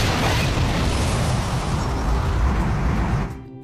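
A spaceship blows up in a Gundam anime, a loud sustained roaring blast with rumbling debris that fills the whole moment before cutting off abruptly near the end.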